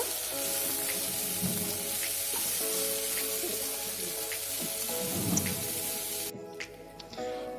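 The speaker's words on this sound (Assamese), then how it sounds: "ঢেকীয়াখিনি ভালদৰে এনেকৈ ভাজি ল'ব।" Dhekia fern shoots frying in a pan, giving a continuous loud sizzle and crackle with scattered pops that drops away abruptly near the end.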